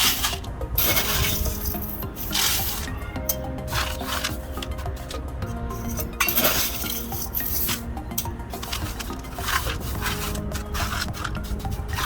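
Soil poured and pressed into a bonsai pot while repotting a wild almond tree grown from seed: continuous gritty rubbing and scraping that runs steadily throughout, close up, with no voices.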